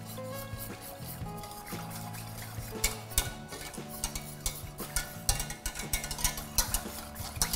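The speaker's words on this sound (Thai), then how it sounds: "ก็คือให้เราคนให้มันกระจายตัวดีก่อนเราค่อยเปิดเตานะคะ" A spoon or whisk scrapes and taps against a pot while flour is stirred into a cold coconut cream mixture for old-style strawberry ice cream, before the stove is lit. The strokes are steady and irregular, with soft liquid swishing and clinks, and no voices.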